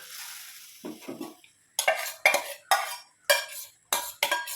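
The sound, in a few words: jackfruit seeds added and stirred into curry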